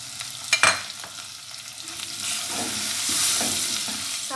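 Capsicum cubes tipped into boneless chicken frying in a pan, a brief clatter of the pieces going in followed by steady sizzling and a few scrapes of stirring, with no one talking.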